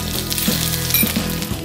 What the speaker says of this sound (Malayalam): ഓയിൽ നന്നായ ശേഷം കടുക് പൊട്ടിക്കാം